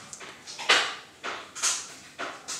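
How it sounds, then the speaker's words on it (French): Cat scratching at its scratching post indoors, giving several soft scraping and rubbing bursts in an uneven rhythm, fairly faint and close, with no talking. "c'est mon chat qui s'amuse avec son griffoir"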